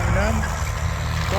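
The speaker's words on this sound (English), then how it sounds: "The recovery vehicle backs up and prepares the damaged CV90 for towing" A military recovery vehicle reverses at a Tank Day display at the P4 Skaraborg regiment, preparing a damaged CV90 for towing. Its engine gives a steady, loud, low idling rumble throughout, with a voice talking over it.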